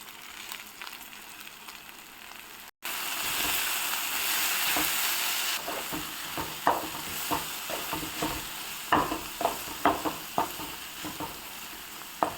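Spices including coriander powder sizzle steadily in a hot pan for tomato curry, joined after a moment by a series of scraping stirs with a spoon, no talking.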